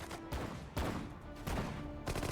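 Battlefield gunfire from the World War II strategy game Sudden Strike 4, with repeated bursts of rifle and machine-gun shots and explosive cracks coming in loud waves, no talking in between.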